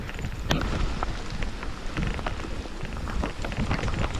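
Heavy rain pours steadily during a night downhill bike ride on a Mayon Volcano trail, with dense spattering and occasional sharper drops against a constant rushing wash, close and loud.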